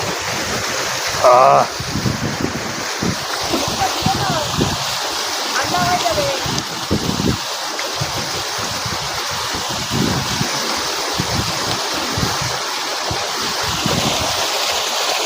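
A Darjeeling waterfall pours in a loud, constant rushing roar close by, a dense broadband wash of water with a few faint voices and bird-like chirps barely rising above it.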